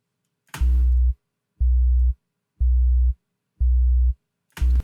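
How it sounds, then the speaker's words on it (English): A low, steady sine wave tone pulses on and off in five evenly spaced bursts, each about half a second long, loud and clean with silence between. "here I have a very simple sine wave"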